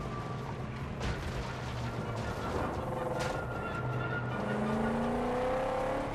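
A car driving in Mad Max across a wasteland, steady engine drone with shifting revving tones and occasional thumps, moderately loud and continuous throughout.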